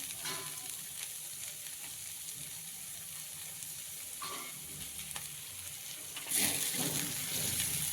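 Curry leaves dropped into hot oil in a pan, a close, steady frying hiss that bursts into a louder sizzle near the end as the leaves hit the oil.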